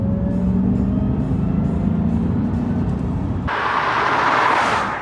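A supercharged Jaguar XKR British sports car drives with a steady, loud engine drone, then a gear change shifts the tone brighter and raspier near the end, with no voices.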